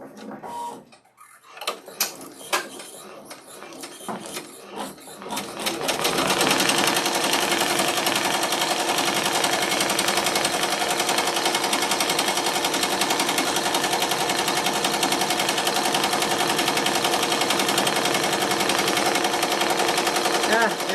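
An embroidery machine starts a small stitch-out after a few seconds of clicks and handling, then settles into a loud, rapid, steady mechanical chatter that runs on unbroken.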